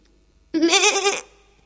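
A single goat bleat, loud and close, a wavering quivering call lasting about two-thirds of a second against an otherwise quiet background.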